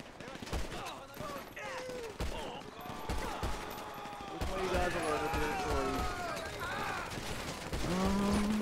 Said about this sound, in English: I'm using nothing but a pistol.